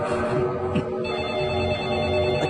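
A phone rings in a scene from the Tamil film Kaththi over a dense, continuous background of music and noise, the electronic tone steady and moderately loud across the whole stretch.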